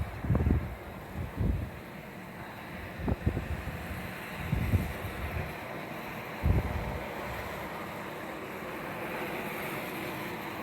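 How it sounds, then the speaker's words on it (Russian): Wind gusts buffeting a microphone outdoors in snowy Yakutsk in March, with several low rumbling bursts early on that settle into a steady, hissing blow. "Вот ветер, показать какой снег."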